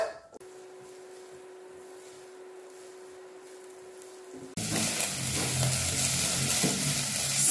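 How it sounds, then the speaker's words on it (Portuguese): Red onion hits a hot pan for sautéing: a quiet stretch with a faint steady hum, then a sudden loud, continuous sizzle and crackle that holds to the end, no speech. "Vou refogar essa cebola por 2 minutinhos."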